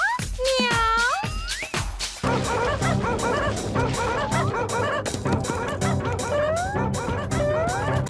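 Cartoon dog from the Motu Patlu animated series barking and yipping loudly, with rising whimper-like cries at the start, then a run of quick barks over busy background music.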